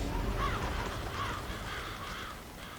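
Crows cawing in Hemwick Charnel Lane in Bloodborne, a few hoarse caws at a distance over a low, steady ambient rumble.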